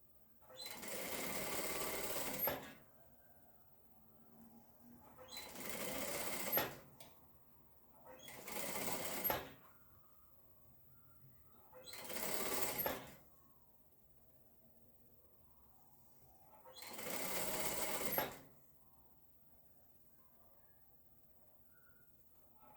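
Home sewing machine stitching patchwork fabric along the seam allowance, five loud bursts of rapid whirring stitches separated by quiet pauses, close up and with no talk.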